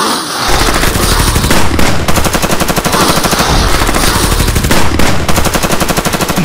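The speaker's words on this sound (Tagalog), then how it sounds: "Puro barilan ang nasasaksihan ko." Dense, sustained machine-gun bursts and rapid gunfire fill the whole stretch as sound effects in a Filipino horror audio drama about an aswang attack, loud and continuous with brief dips between volleys.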